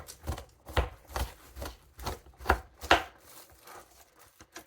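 Knife chopping an onion on a cutting board for pasta salad, a steady series of about ten sharp close thuds and slicing crunches in regular rhythm, with no talk.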